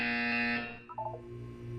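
A buzzer from the video game Portal 2 sounds as one harsh, loud electronic blare of about half a second, then fades into a quiet hum with a brief tonal blip.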